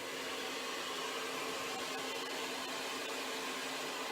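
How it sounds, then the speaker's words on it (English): A hair dryer running on its medium setting while styling a pompadour haircut gives off a steady, unbroken airy roar at constant loudness throughout. "I'm gonna set my dryer to medium, and then I can give it just a little bit more volume."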